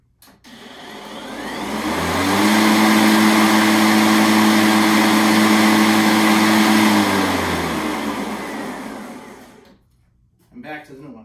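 An older DeWalt cordless lawn mower drones steadily and loudly for several seconds, then shuts off, leaving a brief quiet before a short burst of voice.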